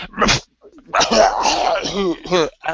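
A man imitates a dog retching with a burst of sharp, throaty hacking followed by a string of strained gagging vocal noises, close and loud, ending with a short final cough.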